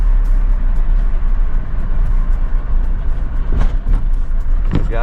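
Constant road roar from inside a car cruising on the Samruddhi Mahamarg expressway: steady, loud tyre and wind rumble with a few brief sharper rattles near the end.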